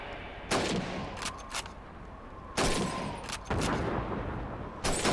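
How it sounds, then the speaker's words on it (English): Rifle gunfire on a Call of Duty 2 World War II shooting range, several loud, sharp volleys of overlapping shots in irregular bursts over a steady background din. "Oh, they all open fire now."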